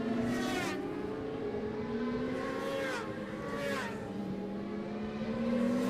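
Superbike motorcycles racing out of turn 2 at a championship round, engines droning at high revs with rising pitch sweeps as several bikes accelerate past, moderately distant and steady throughout.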